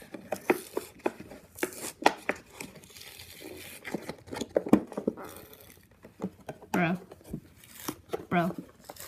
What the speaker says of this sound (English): I'm gonna just peel this off